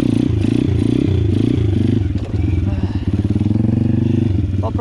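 A Loncin 125 motorcycle engine revs loud and close during wheelie practice in fifth gear, its rough pulsing exhaust note rising and falling through repeated throttle bursts with some mechanical clatter.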